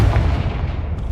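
Blasting-spell explosion in the Hogwarts Legacy video game, a heavy booming blast with a deep rumble that decays over about a second.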